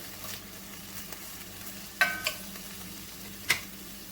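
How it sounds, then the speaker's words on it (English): Chicken frying in a single pan gives a faint, steady sizzle, broken by a few soft scraping stirs about halfway through. "we'll be stirring it every once in a while here"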